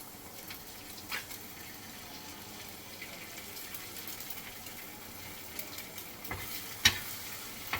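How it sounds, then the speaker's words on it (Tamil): Egg podi mas and vegetables sautéing together on a tawa give a soft, steady sizzle with occasional light stirring scrapes and a sharp clink near the end, faint and close, with no talking. "அப்படியே தவாலே போட்டு இதே எல்லாமே ஒன்றா வதக்கியாச்சு."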